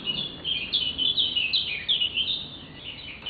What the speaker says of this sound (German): da hinten schickt ein Vogel Grüße an einen lieben Menschen.